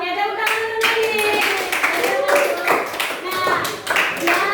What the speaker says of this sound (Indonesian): Oke, tepuk tangan untuk Nadine.